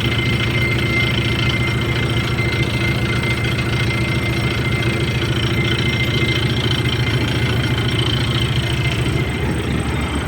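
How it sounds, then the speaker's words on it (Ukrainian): A tractor runs steadily while driving a baler baling straw, a continuous mid-low engine drone with a faint rhythmic knock, close and unbroken, with no voices. "Зараз тюкую солому"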